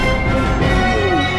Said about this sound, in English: That is the sound of the Terminator.